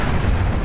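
A loud, dense burst of explosive noise from a blast in the stealth action video game Splinter Cell: Conviction, a single short boom with no voices.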